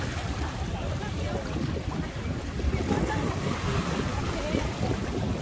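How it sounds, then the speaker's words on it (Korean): Seaside surf and blustery wind on a Korean shore roar continuously at close range, a dense, steady wash of breaking waves and microphone buffeting with no clear pauses. "아, 갑자기 파도가 이렇게 높아졌네요."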